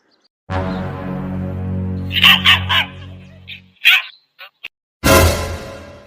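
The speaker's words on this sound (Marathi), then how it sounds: "आता कुत्रा तर घरी आला" A dog at home barks close and loud, a few sharp barks and yips following a long droning tone, with short gaps of silence between the bursts.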